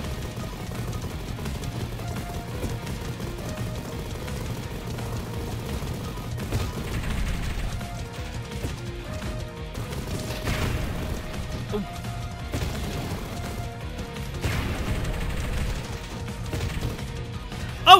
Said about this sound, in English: Oh, he's just gonna keep shooting now.